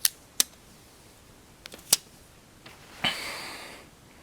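Protective film peels off an iPod Touch after reassembly: a few sharp clicks and ticks, then a short crackling rip of plastic film that trails off softly, close and alone.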